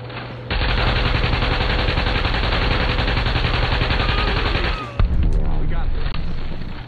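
RPK machine gun firing in The Division, a loud sustained burst of rapid automatic shots that runs for several seconds before stopping and picking up again in a short second burst.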